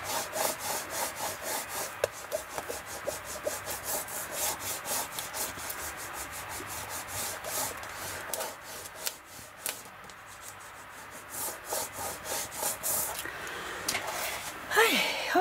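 Paper is rubbed firmly onto a book page in a quick, repeated series of close, scratchy strokes that continue steadily throughout.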